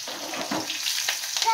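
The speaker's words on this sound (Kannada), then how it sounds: "ಸಾಸಿವೆ ಸಿಡಿಯೋ ಟೈಮಲ್ಲಿ ಜೀರಿಗೆನ ಹಾಕ್ಕೊಳ್ತಾ ಇದ್ದೀನಿ" Mustard seeds and cumin sputter and sizzle in hot oil as a tempering for sambar, a continuous crackling hiss with small pops, close by.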